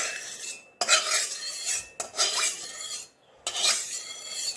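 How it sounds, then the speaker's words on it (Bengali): A spatula scraping and spreading oil around a cooking pan for vegetarian khichuri, three rasping strokes separated by brief pauses, close and fairly loud with no voices. "যে খুন্তি নিয়ে নিয়েছি, তেলটা ভালো করে চারোদিকে সরে নেবে।"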